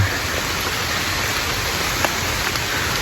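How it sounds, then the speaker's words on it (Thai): Constant rainfall fills the air with an even, loud rushing hiss, uninterrupted throughout, with no talking. "ก็ฝนตกแล้วนะครับ"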